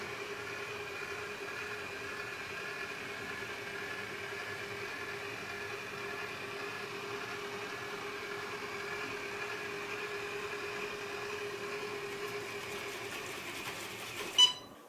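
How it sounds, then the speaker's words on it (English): A Proscenic 820S robot vacuum with its cleaning motor off drives back to its docking station. It gives a faint, steady mechanical whine and hum throughout, ending in a brief click. "And the motor turns off and it returns to the docking station."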